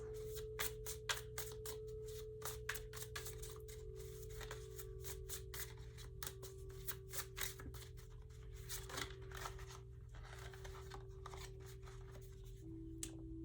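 Oracle cards being shuffled for a tarot reading, a steady run of crisp flicking and riffling slaps over a constant low hum, close and fairly quiet throughout.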